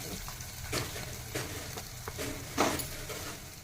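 Grated raw mango with asafoetida, coriander and turmeric frying in a pan for mamidi kaya pulihora, a steady sizzle punctuated by a few scraping stirs, louder near the end.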